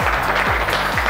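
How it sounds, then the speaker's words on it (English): Applause at a business accelerator demo day, a brief steady wash of clapping from the audience with a low hum beneath. "Let's give these companies another round of applause."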